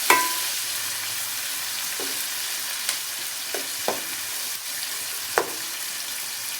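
Onions frying in a pan with salt until brown, making a steady, fairly loud close sizzle broken by a handful of brief scrapes and knocks from stirring, with no talking.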